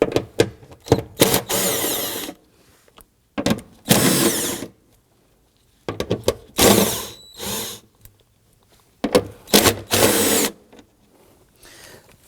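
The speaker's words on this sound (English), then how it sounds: "We use our 10mm socket to loosen and remove the hardware here." A 10mm socket wrench loosening and removing bolts on a Volvo XC90, with repeated bursts of rapid ratcheting clicks separated by quiet pauses, close and fairly loud, no speech.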